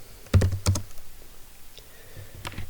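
Keys tapped on a computer keyboard while typing an operating system name, a few quick close clusters of clicks with a short pause between bursts, no talking.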